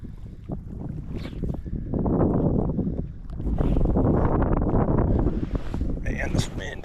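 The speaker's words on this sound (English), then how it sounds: "Man, this wind." Gusty wind blows at a remote river on a trout fishing trip, roaring across the microphone in two long, loud surges while people talk.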